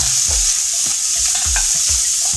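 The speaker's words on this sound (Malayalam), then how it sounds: "പച്ചമുളക് ഇതെല്ലാം ഒന്ന് വഴറ്റുക." Green chilies and ginger sautéing in a pan for rava upma, with a loud, constant close sizzle and regular thumping spatula strokes roughly every third of a second.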